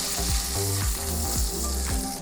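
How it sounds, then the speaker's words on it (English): Meat sears in a hot pan with a dense, constant sizzle and crackle, loud and close, while a low musical backing plays underneath and nobody speaks. "let me just sear the sides so that they don't look pink"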